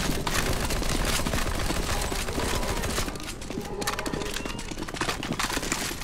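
Relentless rapid gunfire fills a CS:GO Zombie Escape round, with many weapons firing at once in a loud, unbroken clatter of shots that barely eases midway before surging again.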